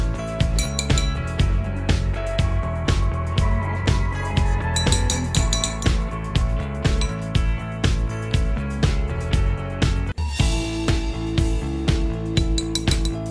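Cream for a fruit salad is mixed in a bowl with a utensil, giving a steady run of rhythmic clinks and taps that keep going for the whole stretch over a constant tonal background.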